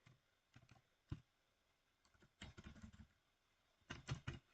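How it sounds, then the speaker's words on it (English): Quiet bursts of computer keyboard typing, irregular clusters of soft clicks separated by pauses. "Sorry, bad typing."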